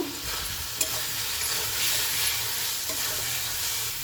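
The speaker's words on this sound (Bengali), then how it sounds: "চলুন আমি মশলাটা ভালো করে লেড়ে দেবো" Potatoes are stirred into fried spice paste in a wok, for a potato, cauliflower and egg curry, giving a steady close sizzle with a spatula scrape and a knock, no talking.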